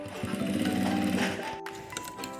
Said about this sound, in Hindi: इस तरह से फोल्ड करते हुए हम इसके किनारे किनारे पर स्टिच लगा देंगे।